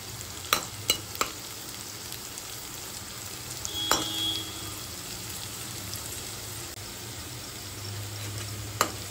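Home-style fried rice being stirred in a frying pan, a constant soft sizzle broken by sharp scraping clacks of the spoon against the pan, close and steady, with no talking.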